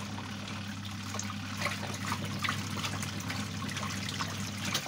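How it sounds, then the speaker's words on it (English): A mini washing machine spits water: water sputters and trickles in an uneven, bubbly stream, quiet and close, over a low steady hum. "it's spitting a bit of water right now"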